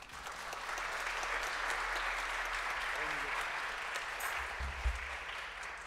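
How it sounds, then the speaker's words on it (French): Audience at a live Beatles tribute show applauding loudly and steadily for a drummer, a dense sustained clapping from a nearby crowd. "Monsieur Laurent Boile, on l'applaudit très fort, s'il vous plaît"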